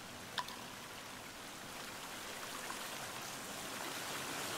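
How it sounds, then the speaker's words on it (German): Water trickling and splashing inside a cave in the survival video game The Forest, a constant soft babbling stream with a faint click near the start. "Das Wasser plätschert hier ein bisschen sehr laut"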